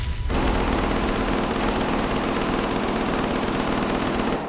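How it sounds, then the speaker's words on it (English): A sustained, dense barrage of gunfire roars for several seconds, loud and close, with no pauses. "I heard gunshots"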